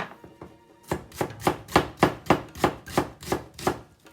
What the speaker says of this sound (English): Slice the onion and the fried tofu.